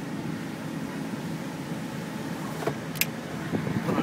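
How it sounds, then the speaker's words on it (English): Power window motor rolling up the glass inside a 2004 GMC Sierra SLT crew cab, a steady moderate hum inside the cab ending with a faint click as it seats. "let me roll up this window here."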